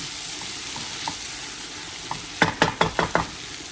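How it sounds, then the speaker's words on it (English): Qeema karela with green chilies cooks on low heat with a soft background sizzle, then a quick run of five or six scraping spoon strokes near the end as the mixture is stirred; no one speaks. "You mix that well, and then you leave it in that low heat"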